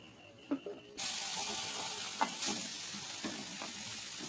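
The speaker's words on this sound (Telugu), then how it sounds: "ఇప్పుడు ఇందులోనే మనం తురుముకున్న బీట్రూట్ వేసుకుందామండి" Grated beetroot dropped into hot oil in a pan with browned raisins, sizzling and frying steadily while being stirred, with a few scraping knocks of the spoon against the pan and no talk.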